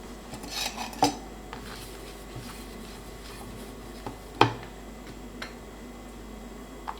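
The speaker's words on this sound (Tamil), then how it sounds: "ஆஃப் பண்ணிட்டு நம்ம பவுலுக்கு ட்ரான்ஸ்ஃபர் பண்ணிடலாம்." Cooked radish halwa scooped from a pan into a bowl, heard as sparse metal spoon clinks and scrapes against cookware over a quiet background, with one louder knock.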